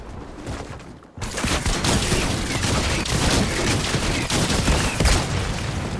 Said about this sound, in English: I hate the primary shotgun.